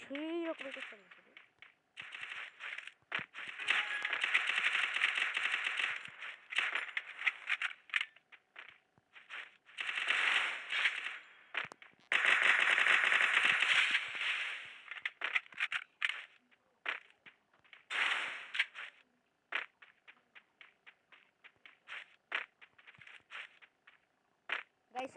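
Gunfire in a video game comes in rapid bursts and scattered single shots, including a headshot, with a voice talking over the shooting at times.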